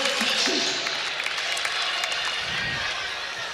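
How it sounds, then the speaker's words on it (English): Arena crowd at a 2019 VCU versus North Texas college basketball game cheering and applauding for a player, a steady broad roar throughout with faint voices mixed in. "Fans are loving it, giving Evans a cheer."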